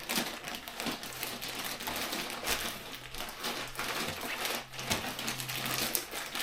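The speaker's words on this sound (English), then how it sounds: "comes in this plastic bag. The easy way of unwrapping it, not causing too much mess" A plastic bag is unwrapped from a new budget backpack, giving close, irregular crinkling and rustling with scattered sharper crackles over a steady low background.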